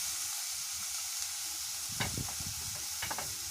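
Potatoes fry in a pan with salt and turmeric, giving a constant close sizzle, with scraping stirs of a spatula breaking in toward the end.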